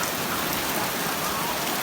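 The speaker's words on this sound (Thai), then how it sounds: "ฝนตกน้ำท่วม" Heavy rain pouring steadily during a flood, a loud, dense, unbroken hiss close by with no pauses.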